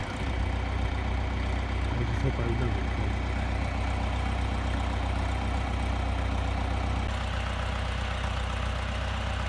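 A farm tractor idles steadily with a low, continuous engine rumble while it pulls up, drops a hay bale and parks during winter cattle feeding; someone speaks briefly over the constant drone.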